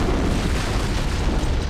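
An antimatter charge explodes aboard a starship in the Halo: Combat Evolved video game, a brief, loud, rumbling boom with dense noise throughout.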